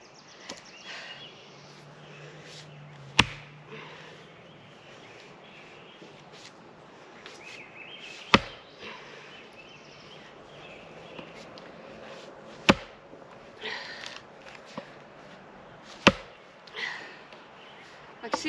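A new Fiskars axe strikes a piece of wood that refuses to split: four sharp, solid whacks spaced several seconds apart, with quiet handling noise in between.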